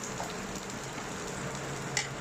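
Chopped large onions fry in hot oil in a pan for paneer butter masala, giving a continuous close sizzle and crackle with a small clatter near the end.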